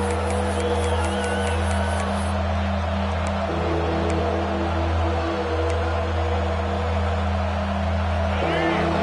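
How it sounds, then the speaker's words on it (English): A college football stadium crowd roars in a dense, continuous wash of noise with scattered whoops, heard under a steady broadcast commentary voice. "listen to this crowd noise. This stadium is vibrating"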